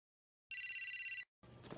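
A mobile phone rings with a bright electronic trill of rapid pulsing tones lasting under a second, then cuts off into a muffled rustle.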